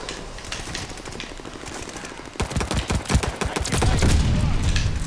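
Rapid pistol shots fire in an online match of Call of Duty Vanguard, with a steady stream of sharp, loud gunfire that grows denser and heavier partway through.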